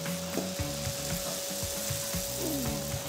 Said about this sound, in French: Alors moi, je déglace à l'eau.